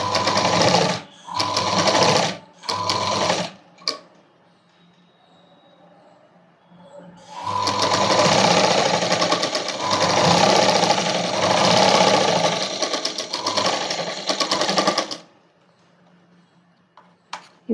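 A sewing machine stitches thread piping onto cloth, running in a few short bursts and then one long steady whirring run of several seconds, close and loud, with no talking.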